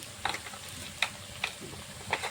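A ground spice paste of ginger, cumin, chilies and turmeric is stir-fried in a pan for a Bengali rohu fish curry with potatoes and okra, a low sizzle broken by a few sharp spatula scrapes and clicks.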